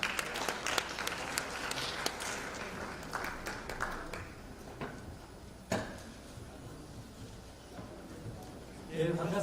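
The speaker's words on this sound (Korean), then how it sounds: "큰 박수로 모시겠습니다." Audience applause at a Rotary leadership workshop lecture, a patchy burst of clapping that fades out gradually across the hall.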